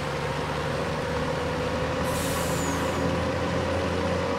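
A Home Depot delivery truck rumbles steadily as it makes a turn, with a brief hiss of air brakes partway through over the constant engine drone.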